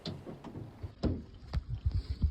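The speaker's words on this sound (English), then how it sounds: "They've just tightened the strops, and they're just starting to lift us now" A boat being lifted out of the water in strops by a hoist for winter storage, outdoors with wind on the microphone: low knocks and bumps, with a few sharper clanks and creaks scattered across the lift.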